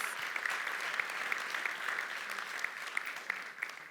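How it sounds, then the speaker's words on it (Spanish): An audience at a results and impact event for the Pensar en Grande programme applauds the mentors, steady massed clapping with a few sharp claps standing out, moderately distant and without talk. "Un aplauso para todos los mentores."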